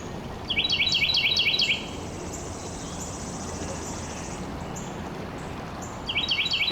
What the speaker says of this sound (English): and the birds and all our little friends out there.